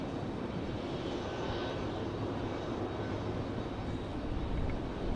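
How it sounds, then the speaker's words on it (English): An Air France jet airliner takes off at night at Raleigh-Durham airport, its engines making a steady, broad, distant roar that holds evenly throughout with no talk. "All right, Air France cleared to take off."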